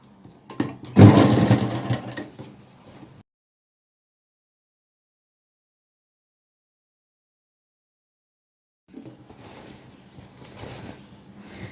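A sewing machine stitches the pant leg of a Punjabi dress in a loud, close burst of about two seconds. After a long silence the machine runs again more softly for a few seconds.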